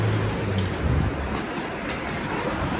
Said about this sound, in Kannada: ಸೊ ಈ ಟ್ರೈನ್ ಹೋಗುತ್ತೆ